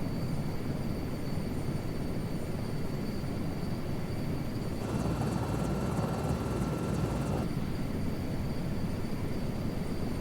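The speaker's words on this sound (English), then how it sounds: "That was probably the cleanest takeoff I've ever had in any helicopter." Sikorsky S-64 Skycrane helicopter lifting off in Microsoft Flight Simulator 2024, a steady loud rotor and turbine drone with rising intensity midway, continuous throughout with no talk.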